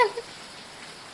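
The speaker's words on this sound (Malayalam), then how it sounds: "അതെ, പുറത്ത് നല്ല മഴയുണ്ട്" Heavy rain falls outside during a shared Kerala meal of tapioca and fish, a steady, even hiss of downpour with no break across the short stretch.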